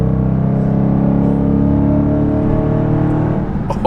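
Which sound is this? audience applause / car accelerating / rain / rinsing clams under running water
car accelerating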